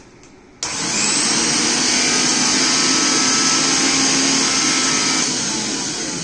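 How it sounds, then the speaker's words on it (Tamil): After a brief quiet start, a repaired mixie mixer grinder switches on and runs with a loud, steady high-pitched motor whine and whirr that holds close and constant to the end. "இப்போ மிக்ஸி ஆன் பண்ண போகிறேன்."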